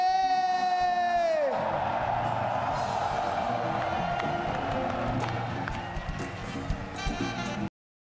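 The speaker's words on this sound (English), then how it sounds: "thank you so much for the great round of applause for OJ!" Large arena crowd at the Dota 2 TI8 esports championship cheering and yelling loudly and continuously, a dense roar that swells after a rising tone fades out at the start.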